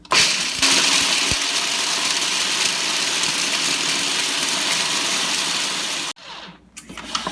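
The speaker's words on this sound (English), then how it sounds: "grate it up in your food processor till it looks a bit like flour" A food processor grinds almonds into a flour-like meal, a loud, steady whirring roar that runs unbroken for about six seconds before cutting off, followed by faint rattling.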